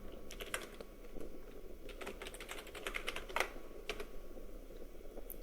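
Fingers type quickly on a computer keyboard to log in to a Windows 10 machine. The key clicks come in quick irregular bursts, faint and close, with no talking.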